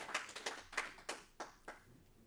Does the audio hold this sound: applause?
yes